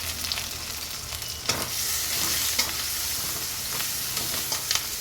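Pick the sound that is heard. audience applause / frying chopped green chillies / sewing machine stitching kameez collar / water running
frying chopped green chillies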